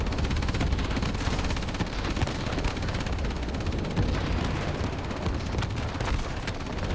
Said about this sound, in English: You can hear his guns going off